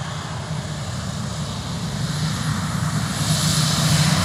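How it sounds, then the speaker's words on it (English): A propeller plane drones overhead, a steady loud engine hum that slowly builds as the crop-duster passes, with no talking. "Got spray planes coming in and out of here today."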